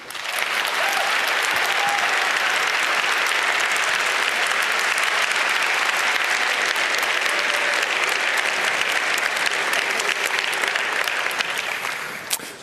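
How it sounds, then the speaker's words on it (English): A keynote audience at the 29C3 hacker congress greets Tor project developer Jacob Appelbaum with loud, sustained applause, a thick continuous roar of many clapping hands that holds steady for the whole stretch before easing at the very end. "A loud applause, please."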